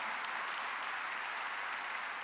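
A church congregation applauds during a worship service sermon, a steady wash of many hands clapping throughout, fairly loud and even, with no distinct voices on top.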